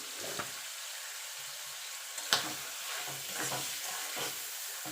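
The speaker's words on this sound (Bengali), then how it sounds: "মাছের তেলটা যদি এইভাবে ভেজে নিয়ে যদি আপনারা রান্না করেন" Fish oil fries with turmeric and chilli powder in a pan, a quiet, steady hiss and crackle close by, with a few soft stirring knocks and scrapes and no voices.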